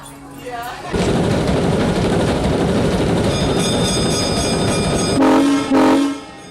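A train rumbles loudly along the tracks, then its horn sounds twice in quick succession near the end, close and piercing.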